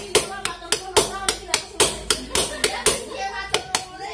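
Repeated metal taps on the rear gear part of a Honda Vario/Beat scooter, about a dozen sharp, evenly spaced knocks at close range.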